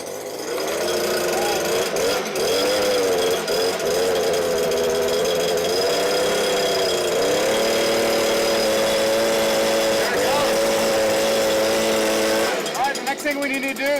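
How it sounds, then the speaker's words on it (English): A Stihl BG-86C gas leaf blower runs close by, its loud, steady two-stroke engine drone rising and falling slightly in pitch with throttle changes, then sputtering near the end. "We got the Stihl all gassed up and ready to start."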